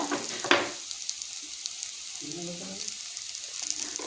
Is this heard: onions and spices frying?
yes